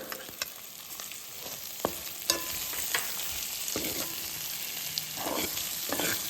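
Ginger and garlic frying quietly in a pan, with intermittent scraping and stirring clicks and a steady faint hiss underneath.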